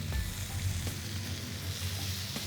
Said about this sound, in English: One thing you can hear is that nice sizzle from the bacon.